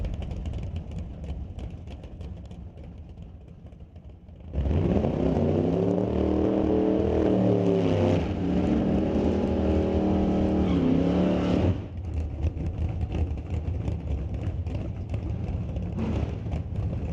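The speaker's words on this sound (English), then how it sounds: "Craig Johnson in the burnout box right now" A drag racing car does a burnout in the burnout box at an NHRA Canadian Sportsnationals divisional elimination: a loud, sustained engine roar with tire screech rises suddenly, holds for about seven seconds, then drops back to a steady background engine rumble.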